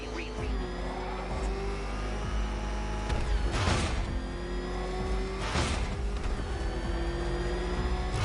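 Batmobile engine in the video game Batman Arkham Knight revving and roaring with rising whines and two loud surging bursts, continuous and close, with no talking.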